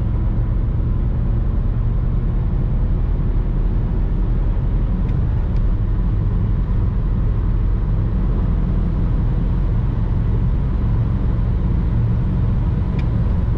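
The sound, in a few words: BMW E92 320d manual accelerating at full throttle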